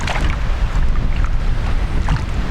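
Steady wind noise buffets the microphone out on an open lake during a fishing trip, a continuous broadband roar with gusty swells and no talk.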